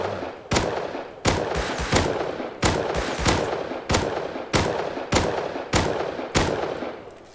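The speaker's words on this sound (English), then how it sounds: "What am I getting shot at?" Gunfire in the video game Rust comes as sharp, loud shots at a steady rhythm, about one every three-quarters of a second, each with a short decaying tail, heard alone.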